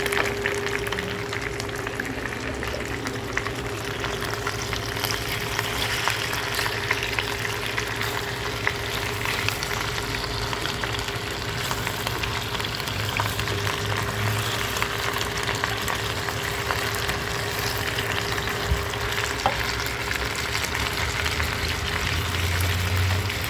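Frozen mushrooms fry in a hot pan with a constant loud sizzle and crackle, an even hissing wash that continues throughout without a pause, with no talk over it.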